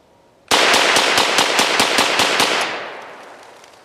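A Pivot compact folding 9mm rifle loaded with Glock magazines fires a fast string of about ten close, loud shots in rapid succession, and the sound decays into echo afterward.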